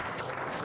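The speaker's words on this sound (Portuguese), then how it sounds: "Recebe uma salva de palmas do público porque teve um comportamento magnífico perante o número 1 do mundo" Dense, steady audience clapping fills a billiards hall during a carom match, a brief continuous burst of applause.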